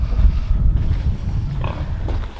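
A large sow eating sprouts on a small farm, with close, loud grunting and chomping in a steady low rumble, no talking.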